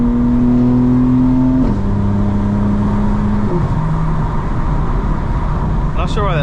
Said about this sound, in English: so now cold starts are super rowdy, especially with the max burbles on